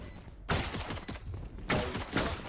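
Bursts of gunfire in Valorant, two loud volleys of rapid shots about a second apart with a brief third burst near the end, close and dense.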